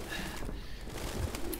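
Pigeons cooing inside a game level of Detroit: Become Human, a soft low murmur of coos sitting steadily beneath ambient room noise across a short stretch, with one slightly stronger coo near the end.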